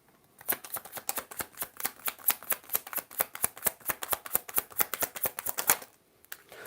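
A deck of tarot-style cards is riffled and shuffled for a card pull, giving a rapid, even train of crisp flicks close by for several seconds before stopping.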